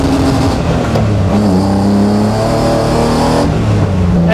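A BMW E36 track car drifting on a race track, its engine revving loudly and continuously close by, the pitch rising and falling as the throttle changes, with no talking.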